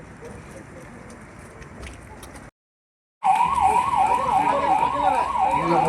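A wailing ambulance siren rises and falls steadily and loudly after a short gap, following a stretch of busy traffic noise, during an NDRF flood rescue mock drill in Katapadi.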